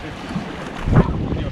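Steady wind rushes across the microphone aboard a moving catamaran in the Maldives, with a brief louder gust and water noise underneath.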